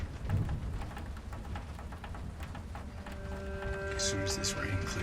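Steady rain patters all around, with a low rumble underneath and people talking over it.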